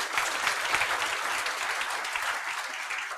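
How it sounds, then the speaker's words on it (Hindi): Loud, dense applause from a seminar audience at a coaching academy preparing students for the Rajasthan RAS exam, a steady close crackle of many clapping hands. "एक बार आप सबके लिए जोरदार तालियां बजा दीजिए"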